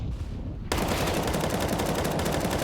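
Sustained automatic gunfire from a Counter-Strike match on Dust2, Overpass or Inferno, erupting loudly after a brief quieter lead-in and continuing as a dense, rapid burst through to the end.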